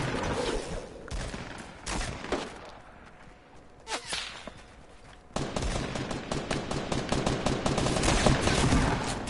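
Fortnite gunfire opens with scattered shots and a pause, then heavy rapid bursts keep coming through the rest of the clip, fairly close and loud.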